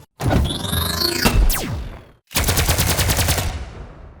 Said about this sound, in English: more of like a quick firing sniper shot